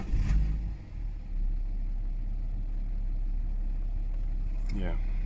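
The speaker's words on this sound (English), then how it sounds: "And start the engine." A BMW F10 535d diesel starts with a brief low crank burst, then settles into a steady, deep idle rumble, with a voice speaking briefly over it near the end.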